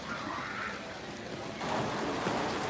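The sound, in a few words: flowing water from a water wheel in an amusement park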